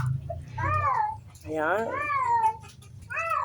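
A cat meows close by in three drawn-out, rising-and-falling cries, loud and clear, with a person speaking softly around them.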